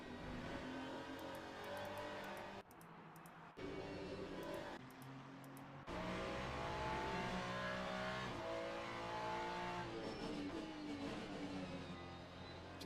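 A damaged race car engine in a racing video game, with suspension damage, revs and roars with uneven, rough tone, repeatedly cutting out and surging back, sustained and close, without voices.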